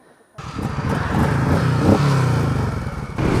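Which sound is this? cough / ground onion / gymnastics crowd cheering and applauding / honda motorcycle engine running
honda motorcycle engine running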